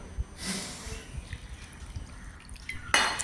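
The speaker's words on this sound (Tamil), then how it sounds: "ஆனால் அதிகமாக ஊற்றாமல் கரெக்டாக அந்த தேங்காய் மூழ்கிற அளவுக்கு ஊற்றினா போதுங்க." Water is poured over grated coconut in a kitchen to make Chettinad coconut milk, an uneven splashing, dripping trickle close by with a brighter gush near the end.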